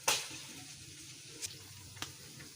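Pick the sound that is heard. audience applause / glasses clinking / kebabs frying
kebabs frying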